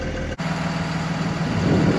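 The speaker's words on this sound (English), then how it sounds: "It's an older bus, and it's a diesel, and it's trying to do a regen." An older diesel school bus idles steadily during an exhaust regeneration, giving a constant low rumble with a faint high whine above it, close and unbroken apart from a brief click near the start.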